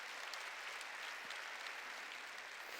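A church congregation clapping together during a sermon, a faint and even patter of many hands heard from some distance that keeps going for the whole stretch without a break.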